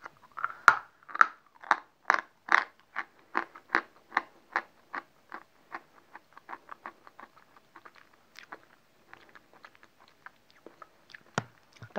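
Close-up crunching from chewing hard, brittle chalk, a rapid run of crisp bites that slows and grows sparser toward the end.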